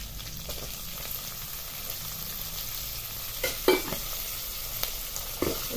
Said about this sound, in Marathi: मिरची आपली चांगली परतली गेली आहे ह्या स्टेजला आता थोडीशी कडीपत्ता आणि कोथिंबीर घालून घ्यायची